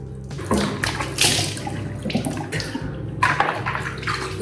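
Cold water splashes as a face is washed with face wash, giving irregular close splashes and running water from a tap, loud and continuous with no talk.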